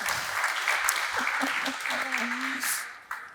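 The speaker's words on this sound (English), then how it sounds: "Give a wee round of applause to our fantastic panel." An audience applauds a panel at an AI regulation discussion, with steady moderate clapping throughout while a voice talks briefly over it.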